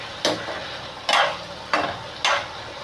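A spoon scrapes and stirs a drumstick and tomato curry frying in a pan, four distinct close strokes about half a second to a second apart over a soft background sizzle.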